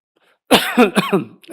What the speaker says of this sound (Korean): 제가 왜 이렇게 기침하는지 알아요?